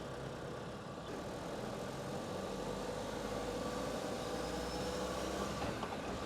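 A car engine idles steadily after a wiring repair, giving a constant low rumble with a dense noisy texture and no talk.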